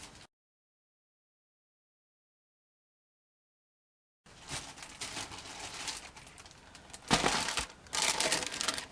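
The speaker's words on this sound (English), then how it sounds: "take these out of its packaging" Halloween LED spider lights are pulled from plastic packaging: after a few seconds of silence, close crinkling and rustling of plastic starts up and builds into louder crumpling bursts toward the end.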